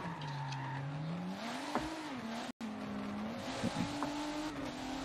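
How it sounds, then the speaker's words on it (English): A race car in a racing video game drives toward the finish line at Sebring, its engine a steady droning whine that rises and falls through gear changes, with a brief cut partway through. "we've got the America car coming in to the finish line"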